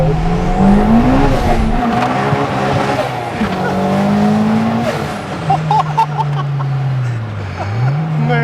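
A 330 hp turbocharged Honda DC2 Type R driven hard, its loud engine rising and falling through revs while tires squeal and skid in long stretches, close and continuous.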